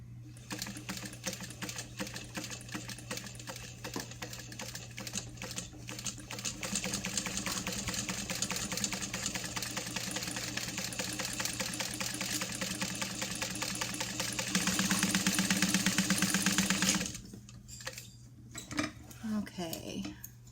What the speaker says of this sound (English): Just going to sew right next to it.